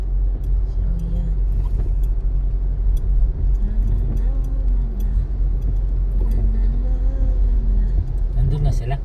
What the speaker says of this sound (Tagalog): Traffic. Moving naman ang traffic.